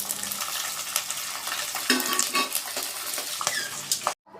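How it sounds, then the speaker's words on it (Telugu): Green chillies and curry leaves frying in oil in a pan, a steady sizzle with repeated spoon scrapes and stirring clatter, close and clear, cutting out abruptly at the end. "వీటిని కాసేపు ఫ్రై చేసుకోవాలి."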